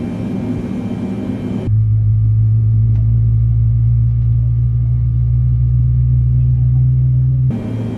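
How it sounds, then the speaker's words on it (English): Airliner engine two spinning up in Microsoft Flight Simulator: a loud, steady low rumbling drone that comes in abruptly and holds for several seconds, then cuts off, with louder broadband cockpit noise before and after. "Starting engine 2."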